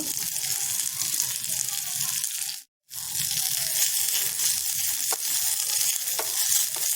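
Tender mango leaves fry in ghee in a pan, making a continuous crackling sizzle with stirring. A brief cut drops to near silence midway before the frying resumes, and no one speaks.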